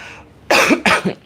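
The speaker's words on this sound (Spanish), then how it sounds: "Me está dando tos de todo lo que he hablado hoy." Two loud, close coughs in quick succession from a woman making beeswax hand balm in her workspace, each a sharp burst with a short raspy tail, alone with no talk.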